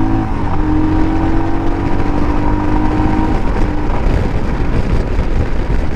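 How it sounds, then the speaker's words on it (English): A 2022 Royal Enfield Himalayan with a 411 cc single-cylinder engine runs loudly and steadily at close range, a dense continuous drone with faint tonal hum and wind-like rush and no talk over it. "You can hear that engine."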